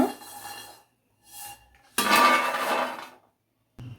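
Low-flame fried almonds are scraped from a pan onto a plate, with a few short metallic clanks and a longer scraping rattle of spoon against pan, close and clear with no talk.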